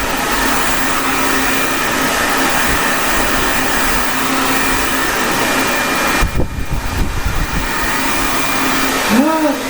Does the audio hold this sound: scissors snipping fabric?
no